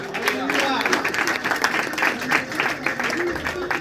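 A church congregation claps and applauds during a Christian sermon, a dense, steady patter of many hands that stays fairly loud and even for about four seconds, with speech-like sound mixed into the crowd noise.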